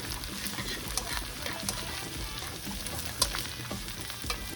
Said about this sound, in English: now it's time to infuse our zucchini with our garlic oil.